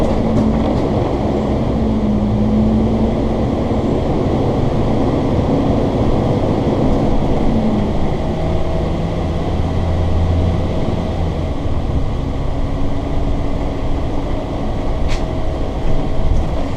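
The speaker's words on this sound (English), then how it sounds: "There's going to be times where I'm going to be quiet because I want you to just hear the road noise." Steady, loud road noise fills the cabin of a Georgetown GT5 motorhome while driving, a continuous low rumble and hum with tire roar that never lets up, with no talking.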